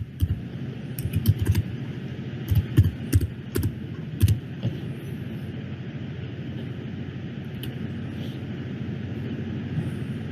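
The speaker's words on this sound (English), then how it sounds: "We're going to type in PowerPoint." Chromebook keyboard being typed on, bursts of sharp key taps in the first half over a steady background hum, then only the hum with a stray click.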